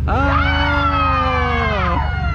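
A tour group on a historic ghost tour in St. Augustine, Florida screams together on cue, one sustained loud group shriek with many overlapping voices lasting about two seconds before cutting off.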